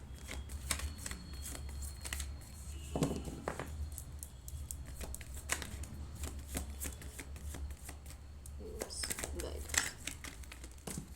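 Tarot cards being shuffled and drawn, giving soft crinkling, riffling and papery snaps scattered through the clip, close and quiet under a low steady background hum with a person talking.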